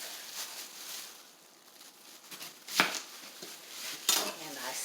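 An onion having its ends cut off with a knife on a cutting board in a home kitchen, giving a few quiet, close chops and taps amid faint rustling.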